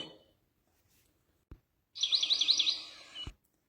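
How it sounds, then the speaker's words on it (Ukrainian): A wintering tit (titmouse) gives a single short call, a quick warbling trill of rising and falling high notes lasting about a second. It sounds close and clear against near silence, with a couple of faint clicks around it. "Вірно, це синичка, кольорова пташечка, зимуючий птах"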